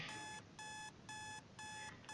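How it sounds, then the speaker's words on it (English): An alarm clock in a DDLC mod visual novel rings in rapid repeated bursts of bright, buzzing beeps with short gaps between them, loud and steady, over a faint hiss. "The sound of the alarm echoed through my ears."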